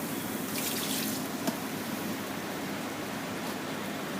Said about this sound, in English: Next I'm adding the malt vinegar.